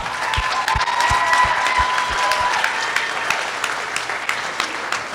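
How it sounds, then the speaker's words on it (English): Wedding guests give a hearty round of applause for Zared and Jen. The sustained, close clapping is paired with low, regular thumps during the first half. "I just want everybody to give a round of applause to Zared and Jen"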